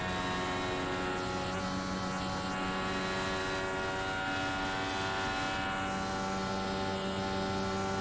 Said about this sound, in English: We're gonna start full throttling it right now.